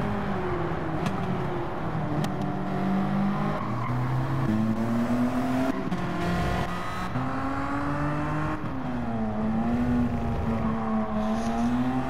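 Several race cars roar around a track in a Challenge Series event, engines droning and shifting pitch as they accelerate and pass close together, with a steady dense din and occasional tire noise throughout.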